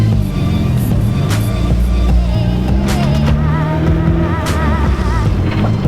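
A modified Honda EG widebody car idling and running with an exhaust leak: a loud, steady engine drone with a rough, puffing rasp and a few brief rev changes, close and continuous throughout.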